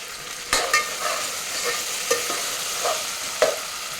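Chickpea biryani with mint and coriander being mixed in a pan, with a handful of distinct spoon scrapes and stirs over a soft sizzle, close and clear with no speech.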